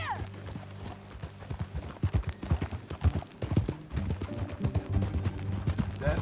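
Rapid, rhythmic hoofbeats of a galloping horse in Red Dead Redemption 2 on PS5 thunder close by, with other busy game sounds layered around them.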